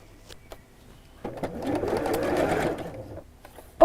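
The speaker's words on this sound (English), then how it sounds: "And then we'll sew." A domestic sewing machine stitching fabric during a live sewing demonstration, a soft steady whirring run of about two seconds after a few faint clicks, moderately quiet with no talk.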